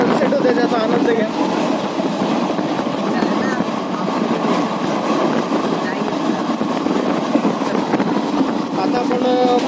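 An Indian passenger train, heard from inside a 3-tier AC coach: a steady, loud rumble with faint rhythmic clatter that continues evenly from start to finish.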